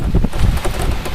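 Strong wind gusts during storm Caetano in Clermont-Ferrand, a loud, close rush of turbulent air buffeting the microphone in a brief burst.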